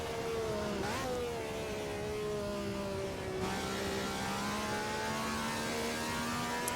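A Honda V12 engine from a 1967 Formula 1 car at Zandvoort in the Assetto Corsa racing game revs high and steady, its rising harmonic whine continuous and loud throughout with a brief gear-shift dip near the start.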